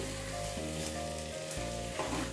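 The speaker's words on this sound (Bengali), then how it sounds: "কষিয়ে নিচ্ছি।" Potatoes for aloo dum sauté with ground spices in a little oil, making a continuous soft sizzle over a steady tonal hum that shifts pitch a couple of times.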